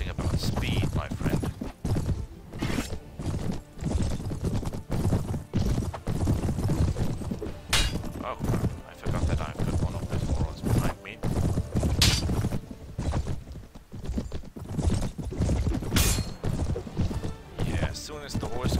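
Horse hooves in the Mount & Blade video game, rapid clip-clop beats mixed with clashing combat hits and thuds, busy and continuous, with a voice talking over it.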